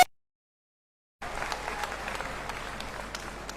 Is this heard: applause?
yes